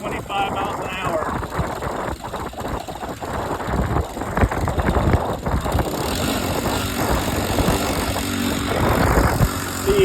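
Small engine of a motorized AWD hybrid bicycle running on 90 recreational fuel, droning steadily while cruising at about 25 mph amid wind rush, with someone talking over it.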